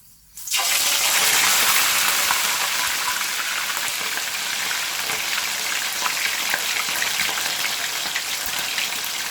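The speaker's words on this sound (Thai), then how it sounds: "ก็เอาปลาลงมาทอดเลยนะคะ" Loud, steady sizzling and crackling of sea bass frying in hot oil in a pan, starting abruptly and continuing without pause, no voices.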